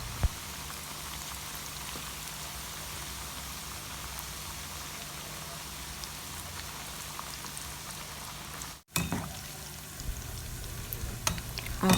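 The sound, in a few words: poloo (chin chin) dough frying in oil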